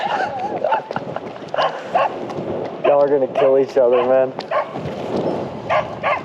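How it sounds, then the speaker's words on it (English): A dog barks and yips nearby along a running route, with short sharp barks repeating while someone talks over it outdoors. "you can hear this dog?"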